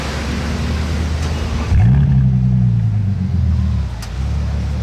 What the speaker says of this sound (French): Voilà ce que donne un démarrage du W12 de la Bentley.